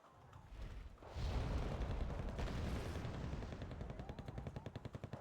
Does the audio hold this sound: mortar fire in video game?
yes